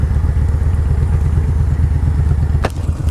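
A cruiser motorcycle, either a Harley-Davidson Iron 883 or a Yamaha Bolt, rumbling loud and close at a steady idle, with a brief sharp clack near the end.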